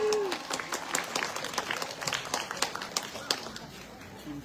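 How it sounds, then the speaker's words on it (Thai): Audience applause for a charity fashion show at a Thai temple celebration: steady, mid-distance crowd clapping with individual claps standing out and voices mixed in underneath. "ขอเสียงปรบมือให้กับแฟชั่นโชว์การกุศลทีมวินเตอร์ของเราด้วยนะครับ"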